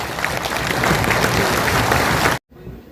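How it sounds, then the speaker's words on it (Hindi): Loud, dense applause from an audience at an LIC welfare association celebration for Dr. B.R. Ambedkar's birth anniversary, steady clapping for over two seconds that stops abruptly. "जोरदार तालियां।"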